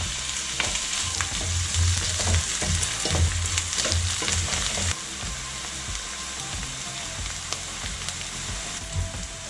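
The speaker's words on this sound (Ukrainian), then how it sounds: "До розігрітої олії додаю цибулю та буду обсмажувати до напівпрозорості" Onion frying in heated oil in an aluminium pot, a loud, continuous crackling sizzle with scattered pops and occasional stirring scrapes, easing slightly about halfway through.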